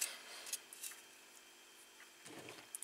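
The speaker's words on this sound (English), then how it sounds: "I cut this piece of foam square" Scissors snipping through a square piece of foam, giving faint, sparse clicks and soft rasping cuts over a quiet room, with one slightly fuller cut near the end.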